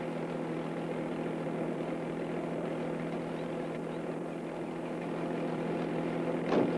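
Helicopter flying toward a release site across the Colorado River, a steady, continuous rotor and engine drone with an even, unbroken hum throughout.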